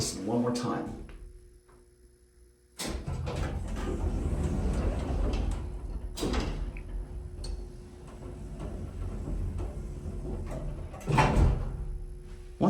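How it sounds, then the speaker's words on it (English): A vintage Otis traction elevator door in Hickory, NC slides shut quickly after the open button, a sudden loud rumbling run followed by sharp clicks and knocks over a constant machine hum. "Once it close up fast that time when I hit the door open button."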